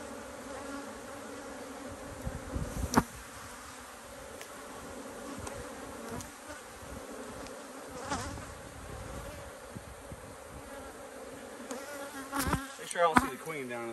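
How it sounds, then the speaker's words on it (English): A bunch of honeybees buzz steadily around an apiary hive, with a continuous droning hum and a few louder close passes near the end. "I got a bunch of bees right here."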